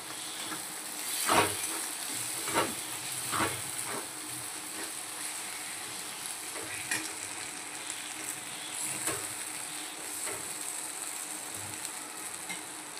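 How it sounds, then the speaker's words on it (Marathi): Vegetables sauté in masala in a pan for Hyderabadi-style mutton keema, a soft continuous sizzle broken by periodic scraping and stirring clicks, moderately close, with no one talking. "याच्यात भाजी टाकून छानपैकी अशी ती पण मसाल्यामध्ये परतून घ्यायची आहे छान"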